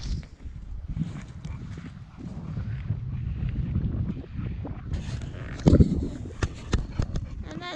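Wind gusts over a sheltered boat anchorage at Paros, Greece, rumbling steadily and buffeting the microphone, with a few sharp knocks and clatters from the boat near the end.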